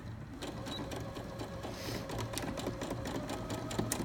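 A sewing machine runs steadily at a quick pace, stitching fabric for pajama pants, its dense mechanical whir close and continuous throughout.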